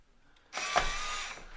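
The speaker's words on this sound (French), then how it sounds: "Dévisser cette carte mère." A power screwdriver whirs while unscrewing a computer motherboard, starting abruptly after near silence and running steadily and close for about a second.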